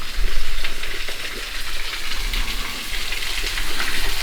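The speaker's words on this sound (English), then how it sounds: "Pretty little waterfall here." Small waterfall on a forest trail in Shawnee National Forest, southern Illinois, pouring into a pool: a steady, close broadband rush with continuous splashing and no voices.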